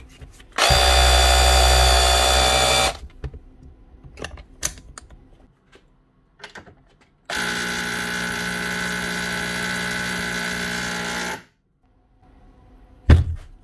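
A DeWalt STS cordless drill, repaired with a new brush spring, whirs in two sustained bursts of a few seconds each, with quieter clicks and handling knocks between and a thump at the end.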